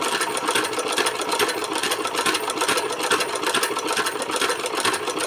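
A sewing machine stitches clothes with a steady, fast, continuous whir at close range. No voices are heard over it.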